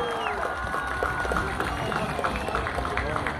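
An audience at a Stihl Timbersports competition in Syców claps and cheers in a steady, dense wash, while an announcer speaks loudly over the crowd the whole time.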